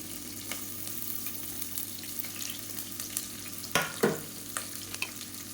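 Chopped onion frying in a pan of oil while making kuruma, a steady low sizzle with a few louder stirring clatters near the middle and soft crackles throughout.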